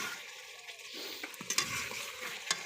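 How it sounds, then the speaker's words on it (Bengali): Spice masala with tomato fries and is stirred in a pan: a soft, steady sizzle broken by several sharp scrapes and clinks of the spoon against the pan, close and fairly quiet, with no talk. "এখন মশলা কষানো শেষ"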